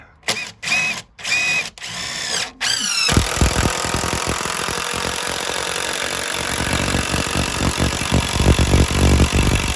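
A power drill drives a screw into garage shelving: a few short trigger bursts at first, then a loud, sustained whirring grind near the mic as the screw bites into the material.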